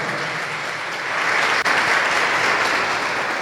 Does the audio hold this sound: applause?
yes